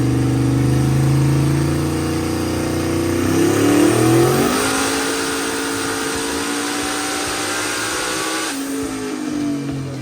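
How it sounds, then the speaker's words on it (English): A freshly built car engine revs hard on a dynamometer, its pitch sweeping up and holding high, then dropping back, loud and continuous with no talking. "Once the car was cranked for the first time, we strapped it onto the dyno and Luke started going to work."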